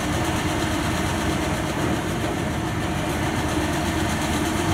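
The engine of a wire-rope clamshell dredger working a canal runs loudly and close by, a heavy continuous rumble with a chugging low-frequency throb and no voices over it.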